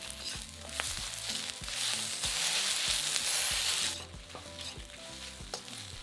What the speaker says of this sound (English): stir fry for a further 30 seconds